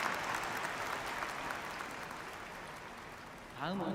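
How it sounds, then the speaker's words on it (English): A large congregation at an anniversary ceremony gives a warm round of applause, a dense wash of clapping lasting several seconds before a voice begins speaking at the end. "let us again send them a warm round of applause"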